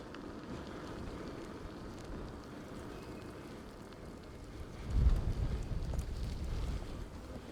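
Strong wind buffets the microphone outdoors, a continuous low roar with a heavier gust partway through, no voices.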